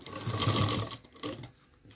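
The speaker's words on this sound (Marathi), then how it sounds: "तर इथे कॉर्नरपर्यंत शिलाई मारून मग इथे थांबायचं आहे" A sewing machine stitches a tiffin bag strap up to the corner, a quick close burst of rattling needle strokes that stops, then a brief second whir before quiet.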